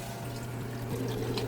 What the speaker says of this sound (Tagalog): Lagay ng tubig.